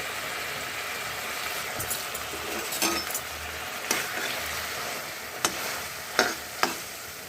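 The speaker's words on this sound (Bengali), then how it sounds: "এইভাবে বিনসের তরকারি রান্না করে নিচ্ছি" A vegetarian beans curry, with drumsticks and green chillies, cooks in a pan with a soft continuous sizzle, punctuated by several sharp clinks and scrapes of a spoon against the pan.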